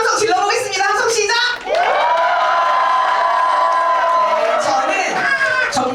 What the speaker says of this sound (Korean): 다시 한번 함성 질러보겠습니다